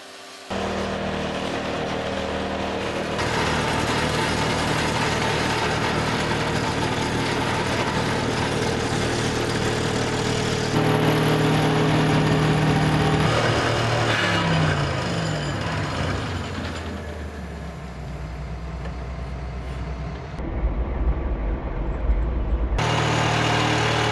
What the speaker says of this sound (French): L'appareil qui s'appelle type Movax, on peut aller jusqu'à 60 pales planches jour si ça se passe bien